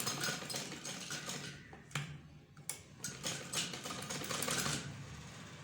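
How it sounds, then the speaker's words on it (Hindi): Sewing machine stitching curved seams on a ladies' kameez, giving quick ticking needle strokes in short bursts with brief pauses and clicks, close and fairly quiet. "इसके बाद हमने इसके अंदरूनी हिस्से पर सिलाई लगाएंगे यूं ऐसे"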